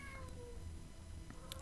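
Faint cat meows drift in from the background, a few short tonal cries over a steady low hum and room noise.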